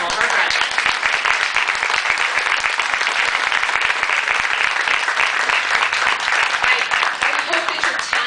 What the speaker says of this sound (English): So let's get a round of applause for all of our graduates.